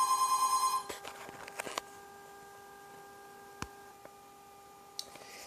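A phone rings in a garage workshop during a motorcycle seat project, a fast electronic trill pulsing several times at moderate level before cutting off, followed by quiet room tone with a few faint ticks and knocks.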